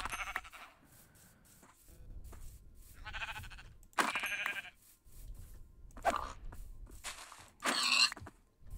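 Minecraft sheep bleat several times in short separate bursts spread across the stretch, fairly close and clear, with soft game ambience and small thuds between the calls.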